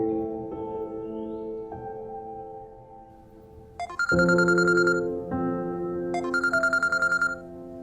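A phone call being placed: a series of steady dialing tones stepping through different pitches, followed by two repeated bursts of electronic ringing, clear and close with no talk.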